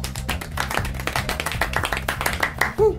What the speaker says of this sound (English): Small, delicate round of applause, please, for Lewis Hamilton.